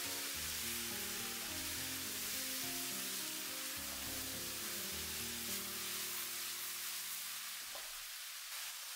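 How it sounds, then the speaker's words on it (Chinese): Loofah and seafood mushrooms are stir-fried in a wok, giving a continuous soft sizzle with a quiet scrape of stirring, steady and faint throughout, with no voice. "接着再把丝瓜倒进来，翻炒均匀，使食材混合在一起，稍微多给它炒一会儿"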